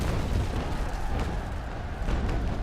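A brig's cannon broadside in the naval game Naval Action Legends, a dense rumbling roar of heavy gunfire that stays loud and booming throughout, with rolling low thuds and no pauses.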